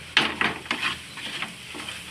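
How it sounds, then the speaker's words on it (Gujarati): A spoon drags through a besan peda mixture in a hot kadai with the gas switched off, making about half a dozen distinct, close scraping strokes over a faint sizzle. "એ કડાઈ ગરમ છે એટલે આપણે આને હલાવતા રહેવું"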